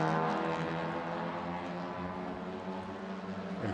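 Race cars in a Malaysia Championship Series circuit race run wheel-to-wheel, with several engines droning together in a steady, loud, layered roar and shifting tones as they pass close by.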